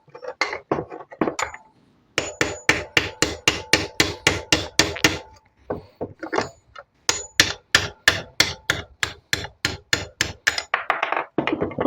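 A hammer strikes a metal punch to drive a collar bolt out of a bow riser, giving sharp ringing metallic blows in fast steady runs, close and loud, broken by short pauses.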